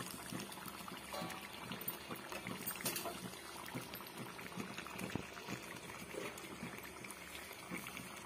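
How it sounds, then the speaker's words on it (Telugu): Nellore-style fish curry simmering in a pot, a soft continuous bubbling and gentle liquid burbling with faint pops, quiet and close, with no talking. "10 నిమిషాలు ఉడికించుకుందామండి."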